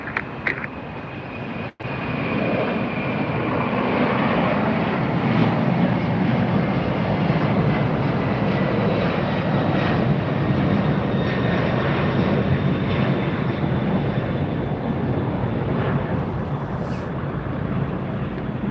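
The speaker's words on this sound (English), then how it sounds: "Here goes yet another FedEx plane" A FedEx jet takes off at LAX at twilight, a loud, steady roar of jet engines that holds for nearly the whole stretch, with a faint high whine riding on top and a brief dip near the start.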